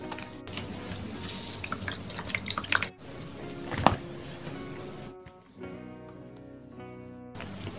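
Grated cassava squeezed by hand to press out its starchy water, heard as close, loud liquid streaming and splashing into a container with drips, pausing briefly and then resuming.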